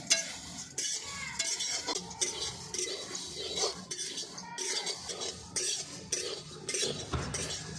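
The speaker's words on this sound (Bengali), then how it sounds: "চিড়ে এবার খুব সুন্দর করে ভেজে নেব লাল লাল করে" Flattened rice (chira) dry-fries in a pan as a spatula stirs and scrapes it in repeated rhythmic bursts, with a light rustling crackle heard close and alone.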